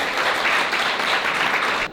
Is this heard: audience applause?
yes